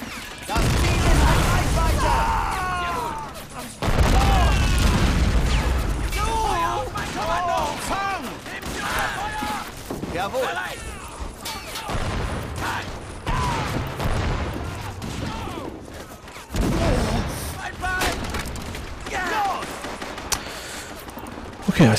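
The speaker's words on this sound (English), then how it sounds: "Now I throw a grenade all around the base." Grenade explosions and gunfire in the WWII strategy game Men of War Assault Squad, in a Market Garden battle as German forces: several heavy blasts burst out among the combat noise while someone talks throughout.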